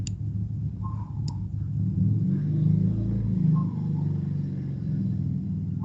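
A small DC motor driven by a motor driver on an embedded systems lab bench, a low steady whirring hum that swells slightly midway, with a couple of faint clicks near the start.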